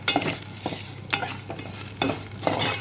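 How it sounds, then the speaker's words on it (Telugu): Curry leaves crackle in a hot tempering with crushed garlic, a close sizzle broken by several sharp stirring scrapes of a spoon against the pan, no one talking. "కరివేపాకు కూడా ఫ్రై చేసుకుందాం ఫ్రెండ్స్."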